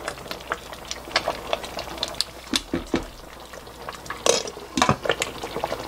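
Mulberry fruit syrup being stirred in a thin pot, with bubbling, liquid sloshing and scattered clinks of the utensil against the pot, fairly close and busy throughout, no talk.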